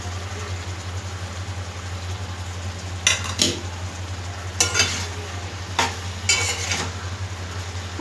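Brinjal and drumstick curry cooks in a pan under a low steady hum, while several clustered bursts of scraping and clattering come from stirring in the salt.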